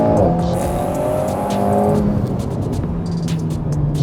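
An Alpine A110 accelerates hard with its tyres spinning, a loud close engine roar climbing in pitch with brief tyre squeal, no talk.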